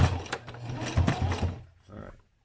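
A sewing machine lock-stitches heavy saddle material for a sling saddle, a close, rapid mechanical chatter of stitching that runs for over a second, then a short burst before stopping.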